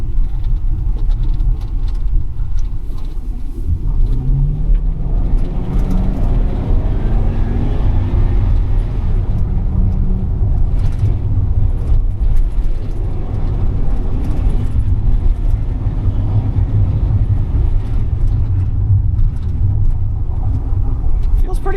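A 2016 GMC 3500 U-Haul box truck eased into acceleration, heard from inside the cab: a steady low engine drone rising gently in pitch, with road rumble throughout and a voice talking briefly over it.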